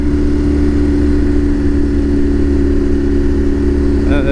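A motorcycle engine runs at a steady, loud idle close by, a constant low drone without revving, with no other sound over it.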